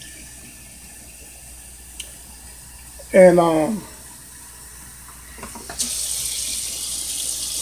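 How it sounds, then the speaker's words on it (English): Running water briefly pours into a crock pot for cooking great northern beans, about a second, then a hissy flow starts again near the end, with a faint voice at the start. "And then I'm going to put some water in here."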